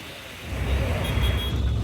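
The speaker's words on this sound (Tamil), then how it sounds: "டிராஃபிக்கை பார்த்தீங்களா, எவ்வளோ டிராஃபிக் இருக்குன்ட்டு." Road traffic noise in Bengaluru heard from a bus, a steady low rumble of engines and tyres that swells after a moment and holds, with a faint high tone above.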